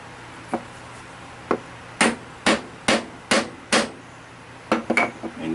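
A chisel set across the glued seam of a woodturning blank is struck by a hammer about a dozen times, sharp close knocks spaced roughly half a second apart in two bursts, with a pause between them.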